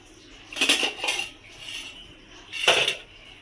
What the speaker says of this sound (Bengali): তো চলো ছেলের খাবার বেড়ে নিই